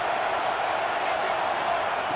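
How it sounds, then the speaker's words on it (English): Crowd noise from a college football video game, Texas A&M against Oklahoma, forms a steady, dense roar with no breaks, filling the whole short stretch. "The crowd is really getting into it."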